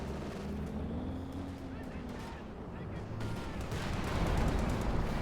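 A Sturmpanzer's 150mm shell bursts among an anti-tank crew in Company of Heroes 2, a deep rumbling blast building louder toward the end over continuous battlefield noise, with talk running throughout.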